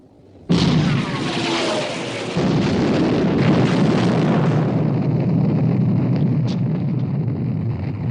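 Naval gunfire and shell bursts from a 1960 war film about the Bismarck: a sudden heavy boom opens a long rolling roar of explosions and rumbling that stays loud and dense, with faint crackles toward the end.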